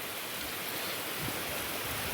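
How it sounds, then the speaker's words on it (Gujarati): Steady broadband rush of irrigation water running through a channel into a field bed, continuous and fairly faint, with no voices. "તો આપણે પાણી તો ચાલુ જ છે"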